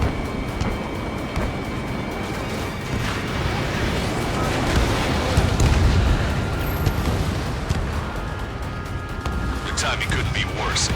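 Explosion of a destroyed target in the combat flight game Ace Combat 7, a deep rumbling boom peaking midway over steady jet engine roar, with radio voices talking over it.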